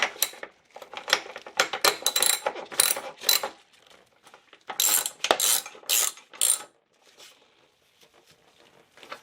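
Ratchet tightening a bolt on the power steering belt of a 1999 Acura RL: repeated bursts of rapid metallic clicking, close and crisp, with short pauses between strokes and no talking.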